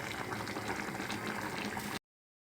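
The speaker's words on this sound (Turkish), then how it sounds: "Evet arkadaşlar bamyamız şu anda kaynamak üzere." A pot of Turkish sour okra stew (ekşili bamya) bubbling on the stove gives a steady, close, dense simmering hiss and gurgle, continuous and even, then cuts off abruptly.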